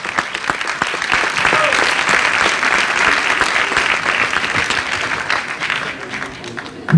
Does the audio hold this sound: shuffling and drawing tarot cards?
no